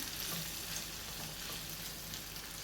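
Ivy gourd pieces for pickle sizzle in a pan on the stove while being stirred, a dense, continuous close hiss with faint scraping and no voices.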